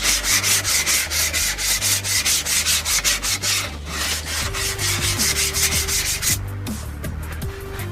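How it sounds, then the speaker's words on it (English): Close, loud sanding of a gray-painted Apple II case with 800-grit sandpaper, in steady back-and-forth strokes that grow rougher and more uneven toward the end. "let's see what 800 grit sandpaper does with this"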